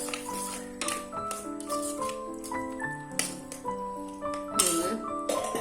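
Metal spoon stirring cooked prawns into a pressure-cooker prawn biryani pot, producing a quick series of bright ringing clinks and scrapes against the pot's side, fairly close and irregular in rhythm.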